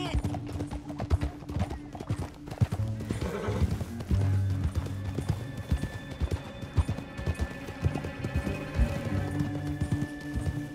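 Horses gallop and neigh in the Red Dead Redemption 2 video game, with rapid hoofbeats drumming throughout, a loud whinny rising over them, and voices mixed in.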